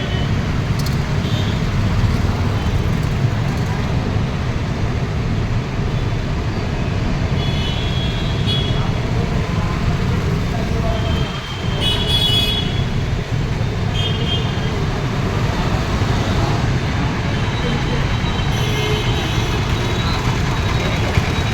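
Steady road traffic rumble as cars, buses and trucks pass through a railway underbridge in Bhilai, heading toward Durg and Supela, a dense continuous drone with occasional louder passes and no talk.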